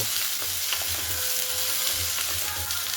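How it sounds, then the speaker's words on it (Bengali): Potatoes, cauliflower and beans fry in a pan with a steady, dense sizzle and faint stirring throughout, close and without any talk. "ভালো করে এই তিনটে জিনিসটাকে ভালো করে ভেজে নেব"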